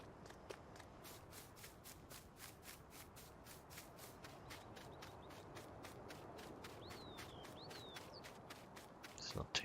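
Footsteps from a farming video game cross a field toward a tractor, a quick steady crunch of regular strides that stays close and soft, with faint chirps near the end.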